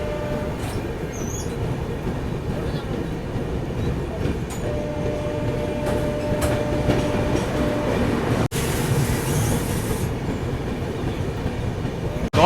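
Kalinga Utkal Express running on rails, a steady loud rumble and rattle of the train heard from onboard for the whole stretch, with brief clicks and a short sharp jolt near the end.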